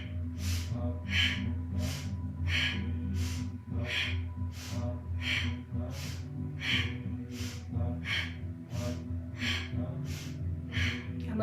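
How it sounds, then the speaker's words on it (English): Slow, deliberate audible breathing during a guided relaxation exercise, about a dozen rhythmic breathy rushes close to the mic, evenly spaced over a low steady background hum. "See if you can make your breath audible."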